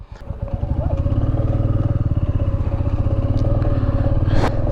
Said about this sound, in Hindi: बाइक पे चल रहे हैं ना